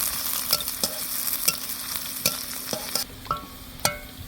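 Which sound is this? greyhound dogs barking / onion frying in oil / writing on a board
onion frying in oil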